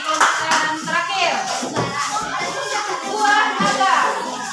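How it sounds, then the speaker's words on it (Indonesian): A room of children claps for the group Cherry, a brief burst of uneven, close applause mixed with young voices chattering. "Tepuk tangan untuk kelompok Cherry."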